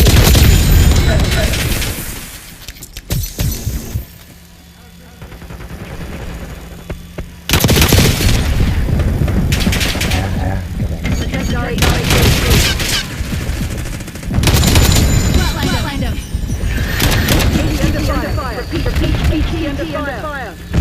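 Call of Duty Black Ops 6 combat: loud bursts of rapid gunfire and booming explosions come in waves, with radio-style voices talking over the battle.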